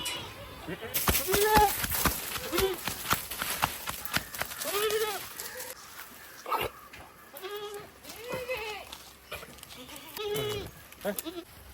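Goats on a goat farm in Kollam district, Kerala, bleating repeatedly in loud, wavering calls from several animals nearby, with clattering and knocking sounds in between.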